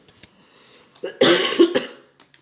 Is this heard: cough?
yes